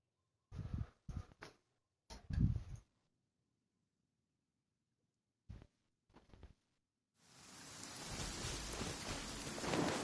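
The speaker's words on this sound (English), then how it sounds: "And it's raining." Rain falls in Genshin Impact, a soft patter swelling into a steady rainfall hiss near the end, preceded by several short bursts of other game sounds and gaps of near silence.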